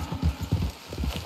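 Horse hooves clip-clop in a steady walking rhythm in Red Dead Redemption 2, close and fairly loud, with soft dull thuds repeating about every fifth of a second and no talking over them.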